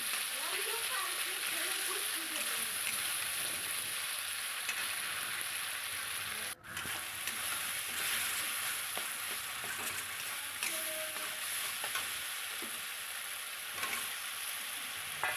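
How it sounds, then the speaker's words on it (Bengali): Chopped tomatoes frying in a pan for a fish curry, giving a steady close sizzle with occasional stirring scrapes and a sharp knock partway through. "এবার একটু ভালো করে কষিয়ে নেব"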